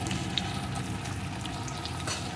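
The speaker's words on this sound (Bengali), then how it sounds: "পেঁয়াজ কুচিটাও পেঁপের সাথে একটু ভেজে নিয়েছি" Chopped onion and papaya fry in a pan for an egg papaya curry, giving a steady, moderately loud sizzle with faint crackles throughout and no voices.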